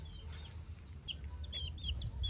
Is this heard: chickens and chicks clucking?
yes